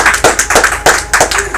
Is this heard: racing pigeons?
no